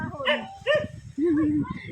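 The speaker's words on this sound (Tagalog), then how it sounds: "Tumakbo na si German yung aso namin." A dog barks and whimpers in short bursts close by, mixed with people talking over it.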